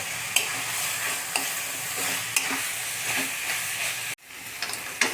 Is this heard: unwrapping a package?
no